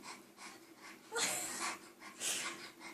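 A person imitates a dog with breathy panting and wheezing huffs, a few short bursts close to the microphone in a quiet room.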